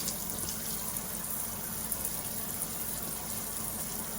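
Steady running water pours from a tap over vegetables being rinsed of dirt, a continuous hiss and splash at moderate level with no pauses.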